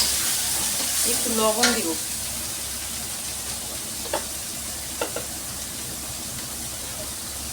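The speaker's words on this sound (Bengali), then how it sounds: "পেঁয়াজটাকে ভেজে নেব" Onions fry in a pan with a steady, moderate sizzle and a few scrapes of stirring, while a person talks briefly near the start.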